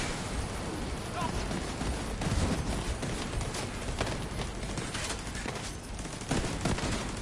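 Turret gunfire in the Division 2 shooter game, dense rapid bursts of shots over a noisy battle mix, loud and continuous, with people talking over it.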